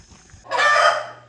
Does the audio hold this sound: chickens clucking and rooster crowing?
yes